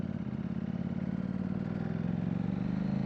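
A motorcycle engine drones steadily at a moderate pace on a chilly ride, with constant low rumble and wind buffeting throughout, close and continuous.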